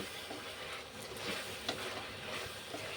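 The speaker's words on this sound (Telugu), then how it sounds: "ఇప్పుడు పూర్తిగా కలిపేసుకుందాం" Chicken curry stirred in a pan after coriander powder goes in, a soft steady sizzle with faint scraping strokes throughout, fairly quiet and close, no voices.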